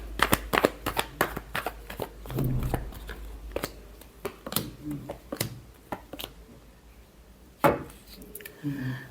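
Tarot cards being shuffled close up, a quick run of crisp riffling snaps and slaps in bursts that thin out toward the end, with a quiet voice talking now and then.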